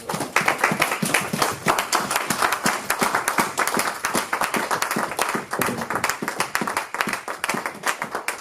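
A church congregation breaks into sustained rhythmic clapping, many hands beating in time and filling the room with a dense, lively pulse.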